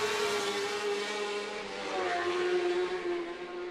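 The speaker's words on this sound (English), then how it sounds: "So second gear here, just if you listen to the engine notes," Race car engine at the Macau Grand Prix street circuit, held in second gear through a right-hand turn; a steady, moderately loud engine tone drones on with no talk over it.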